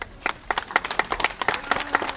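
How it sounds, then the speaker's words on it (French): A small audience at a Québec heritage village event claps to vote, a quick run of close, sharp handclaps that sounds like only a few people. "vous allez voter par applaudissement"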